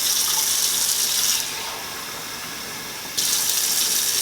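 Tap water runs in a steady hiss as it fills a pitcher, briefly quietening in the middle and then gushing again, close up with no talking.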